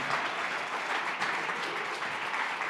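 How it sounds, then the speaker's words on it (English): An audience at a pub science talk in Central Oregon claps in a steady, dense roar of applause that holds at an even level throughout, with no pause or voice breaking through. "How about a round of applause?"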